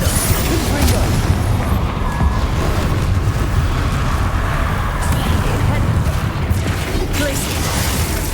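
Spell blasts in Hogwarts Legacy combat boom and burst densely and loudly without pause, mixed with shouted spell names and game effects.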